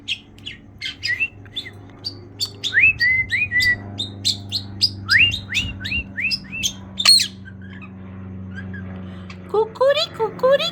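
A pet budgie chirps close by in quick bursts of bright tweets and short whistles, with a steady low hum underneath.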